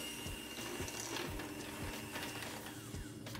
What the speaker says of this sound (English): using a hand or stand mixer, cream that together for 2 minutes until it's light and fluffy